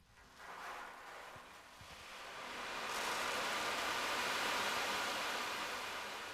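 An ocean drum filled with small metal balls is tilted so the balls roll across its head, giving a soft swelling wash that builds over a few seconds into a broad, sustained surf-like hiss, imitating ocean waves.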